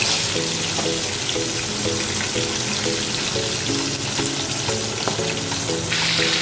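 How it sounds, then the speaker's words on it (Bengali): Chicken pieces sizzle steadily in hot oil at a constant level with no talking, while faint melodic tones repeat softly in the background. "চিকেনগুলো আমি ছেড়ে দিয়েছি ভাজার জন্য।"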